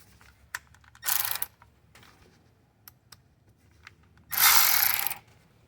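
Ratchet tightening bolts on the turbo of a 2012 Ford F450 with a 6.7 liter Powerstroke diesel, two close bursts of rapid clicking about three seconds apart, with scattered light metallic taps between them.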